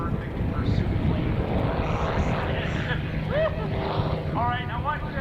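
A P-51 Mustang warbird at an air show landing on its main gear with the tail up, its propeller engine droning loud and steady throughout with outdoor wind rumble, while a voice comments over it.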